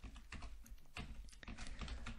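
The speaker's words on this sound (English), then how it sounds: "Oops, I'm typing that out" Someone types code on a computer keyboard, the keys clicking in quick irregular bursts and short pauses, close and fairly quiet.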